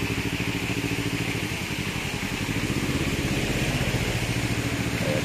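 Motorcycle rides slowly through flood water near the I.T. Park in Davao City, its mid-pitched engine chugging steadily and close by with a faint clattering edge throughout.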